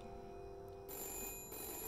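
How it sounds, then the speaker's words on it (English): A telephone rings in the video game We Happy Few, a steady electronic bell tone sounding clearly over a low game ambience with no talking. "We've got a phone call."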